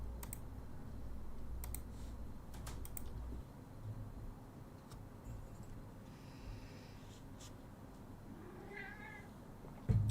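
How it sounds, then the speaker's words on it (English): A house cat arrives near a computer and meows softly a couple of times late on, faint against keyboard clicks and low room hum. "I don't know if you can hear that, but my cat has arrived."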